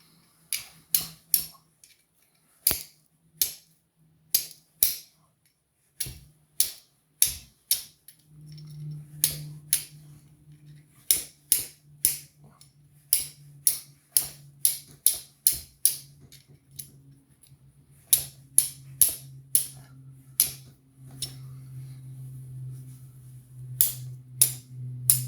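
A flint and ferro rod being struck to light tinder, a long run of sharp, close scraping strikes in irregular bursts, with a low steady hum underneath in the latter half.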